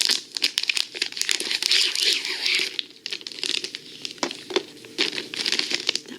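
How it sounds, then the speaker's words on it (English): A paper wrapper tears and crinkles off an Apple Watch box, giving a continuous close, crisp rustling and ripping that lasts several seconds, loud and intimate with no voice over it. "That was just a wrapper."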